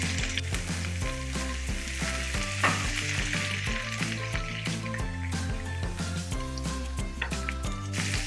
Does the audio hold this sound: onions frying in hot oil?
yes